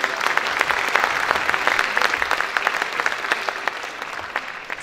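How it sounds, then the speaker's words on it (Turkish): Audience applause for a choir and orchestra at a Turkish folk music concert, a steady mass of clapping filling a hall at moderate volume, with no talk over it. "Bir kez daha koro şefimiz ve koromuzla orkestramızı alkışlayalım."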